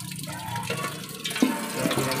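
Broth poured into a cooking pot for sigang na bangus, a Filipino milkfish sour soup, a steady liquid splashing and gurgling close by, filling the pot for about two seconds with no talk.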